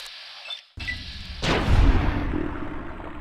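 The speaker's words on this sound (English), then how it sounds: "Ooh, frag grenade." A frag grenade goes off in a post-apocalyptic shooter game, a sharp close blast followed by a heavy low rumble that lingers and slowly fades, with no talk.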